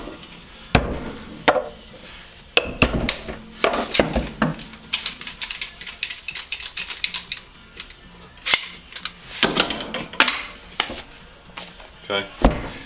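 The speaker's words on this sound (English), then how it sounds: "take a hammer and hit the release button" A hammer sharply strikes the release button on a press used for forming Kydex knife sheaths, giving a series of irregular loud metallic knocks and taps with brief pauses between them.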